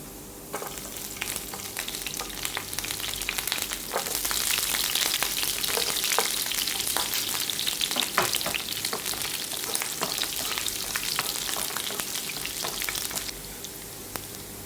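Ginger and then garlic frying in a pan for a dosa and idli chutney, a steady, close, continuous sizzle with occasional scraping stirs, no talking over it.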